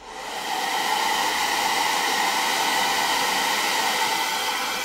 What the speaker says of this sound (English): I am going to hit the blow dryer